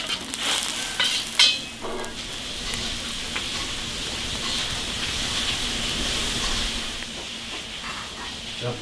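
Fish bones go into boiling water in a wok, with a steady bubbling hiss and steam, a few clinks and clatters near the start, and no talking.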